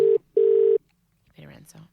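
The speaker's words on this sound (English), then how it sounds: "It's ringing." A telephone rings on a call, two electronic ringing tones with a short gap between them, loud and close, then a voice speaks briefly.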